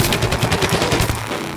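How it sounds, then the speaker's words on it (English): Rapid automatic fire from a zombie cannon in Plants vs. Zombies Garden Warfare, a loud, fast rhythmic burst of repeated shots that runs through the whole stretch. "He's got a big, powerful zombie cannon as his primary weapon"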